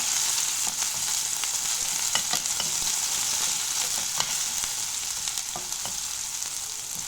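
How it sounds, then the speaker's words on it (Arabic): Garlic sizzles steadily in hot ghee for a tempering over lentil soup, a dense continuous frying hiss with occasional small crackles and pops, close and even throughout. "المعلقة السمنة حلوة كده اهو، هفضي الثوم عليها"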